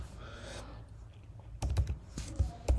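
Python code being typed on a computer keyboard, a near burst of sharp key clicks and clacks after a quiet stretch, with some faint breathy sound earlier.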